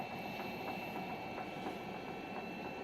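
Treadmill inclination motor running during a disassembly project, a steady close mechanical hum with faint regular ticking throughout.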